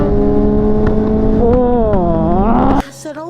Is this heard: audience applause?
no